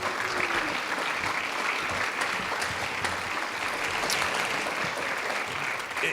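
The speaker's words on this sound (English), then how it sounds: "Let's give our recipients one more round of applause" Sustained audience applause for award recipients at a Hall of Fame induction ceremony, a dense steady wash of many hands clapping at even loudness with no talk over it.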